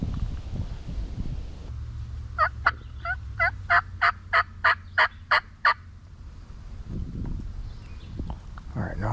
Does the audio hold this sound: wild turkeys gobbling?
yes